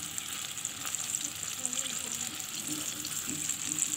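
Chicken pieces for a homemade crispy chicken fry sizzle steadily in hot oil, a constant bright hiss with faint bubbling and a few soft clinks, close and moderately loud with no talking.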